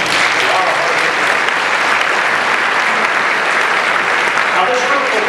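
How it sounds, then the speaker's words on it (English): Steady, dense applause from an audience at a show with a youth barbershop chorus, sustained and fairly loud throughout with no break. "Let's give a round of applause."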